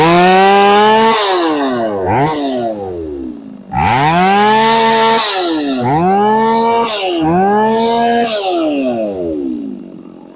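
A used Japanese-market chainsaw engine revving hard in repeated bursts, pitch sweeping up and down between loud high-speed runs and brief drops toward idle, close and alone without talk.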